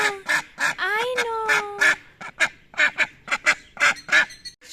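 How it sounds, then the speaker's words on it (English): Ducks on a ranch in Jalisco, Mexico honk and quack in a rapid, irregular series of close, loud calls, with a brief word spoken among them. "we need to go say hi to the baby ducks before we get started"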